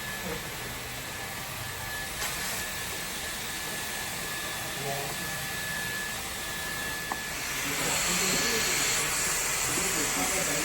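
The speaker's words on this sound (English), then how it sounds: "That's the steam gun." A hair salon steam gun hisses steadily and loudly throughout a perm, a broad continuous rush that swells slightly louder near the end.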